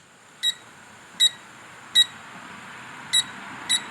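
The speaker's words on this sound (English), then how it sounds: "Hear that beep?" A printer gives five short, sharp electronic beeps at uneven intervals, clear and fairly close against a quiet room.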